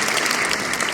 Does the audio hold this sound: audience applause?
yes